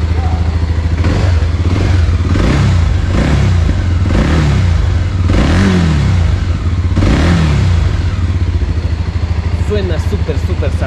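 A VOGE 300 DS trail motorcycle engine idles steadily, then rises in several swelling revs before settling back, loud and close, with someone talking over it.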